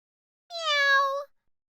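A person imitates a cat's meow in one drawn-out, clear and fairly loud call lasting under a second, with no other sound around it.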